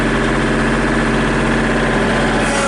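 A Kubota compact tractor engine runs close and loud with a steady, even throbbing drone that holds level from start to finish.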